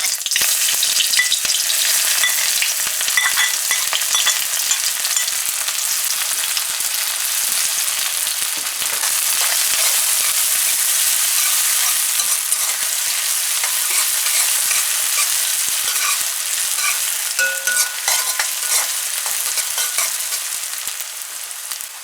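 Onions fry in a pot for an eddo and shrimp curry, giving a dense, loud, continuous sizzle with light crackles throughout and no talking.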